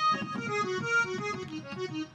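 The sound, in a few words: accordion voice on Pastel DK-390 digital piano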